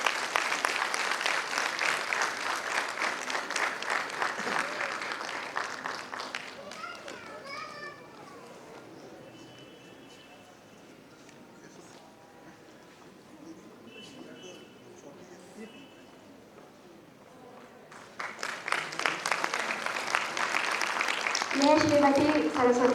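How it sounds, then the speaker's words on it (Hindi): Audience applause at a book launch ceremony fills the opening seconds as a loud, dense clatter, fades under a quieter stretch with speech, then swells back strongly near the end. "ताली बजती रहनी चाहिए।"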